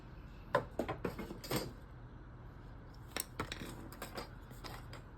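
Scissors or a blade cutting material for a DIY washi tape dispenser, heard as a handful of short, crisp snips and clicks in two bursts, close and moderately quiet, with no talking.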